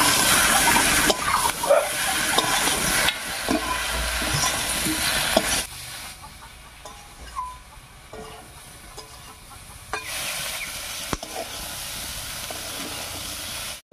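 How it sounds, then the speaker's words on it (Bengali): Boiled, pre-fried potatoes being stirred in a hot frying pan give a loud hissing sizzle with scraping for several seconds, then the sound drops to a softer, intermittent crackle before rising again. "এবার এর মধ্যে দেবো সেদ্ধ করে ভেজে নেওয়া আলুগুলো।"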